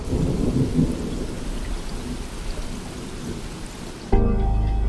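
Heavy rain pours steadily with rolling thunder in the late-night rainy setting of the Depanneur Nocturne video game, then a sudden deep, louder rumble bursts in near the end.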